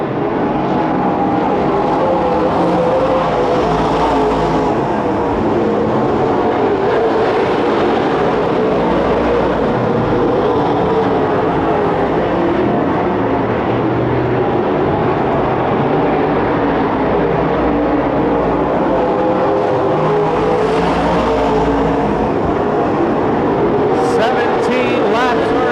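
Super stock race cars lapping Petaluma Speedway produce a loud, continuous engine roar that swells and fades slightly as the pack circles the track.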